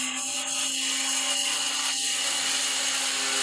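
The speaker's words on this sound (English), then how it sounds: "Install cutting discs using an angle grinder. Cut along the disc line of the ground." Angle grinder with a cutting disc scoring anchor grooves into a concrete floor, a steady high whine with gritty rasping that holds loud and continuous throughout, with no speech.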